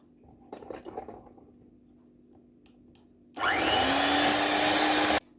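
An electric hand mixer whirs loudly as it mixes cocoa cake batter with banana for a tart-pan cake, starting abruptly after quiet clinking and running steadily for about two seconds before cutting off.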